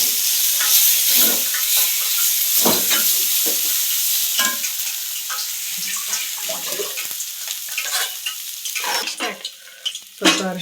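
Mashed potatoes go into a frying pan with cooked onions for vada pav stuffing, heard as a steady loud sizzle broken by wet scraping stirs and spatula knocks, no voices.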